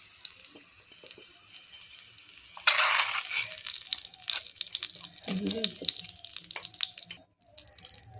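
Tap water runs and splashes over a vegetable plate being rinsed in a home kitchen, starting suddenly and flowing steadily for several seconds before cutting off near the end.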